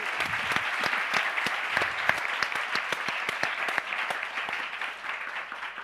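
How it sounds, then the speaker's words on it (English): Sustained applause from a conference audience for the speakers at the ESCAIDE 2022 event, dense steady clapping throughout, close and moderately loud, easing slightly toward the end. "big round of applause for our speakers who came there today"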